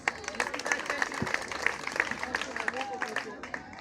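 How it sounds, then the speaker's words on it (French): An audience at a conference on raising awareness against female genital mutilation claps for the club president, a lively patter of hands with voices mixed in. "Applaudissez la présidente."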